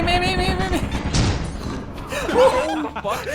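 Turret gunfire in the horror video game Lethal Company, a rapid burst of shots under excited voices, followed by laughter and shouting while the firing continues.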